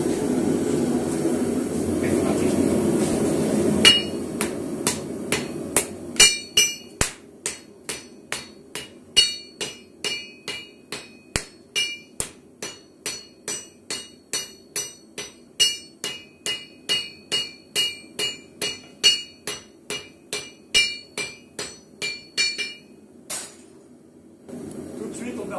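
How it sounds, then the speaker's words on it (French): Blacksmith hammering a borax-fluxed billet during the first forge-welding phase, a long run of sharp, ringing metal strikes in a steady rhythm, close and loud, after a few seconds of roaring forge fire. "C'est parti pour la première phase de soudure."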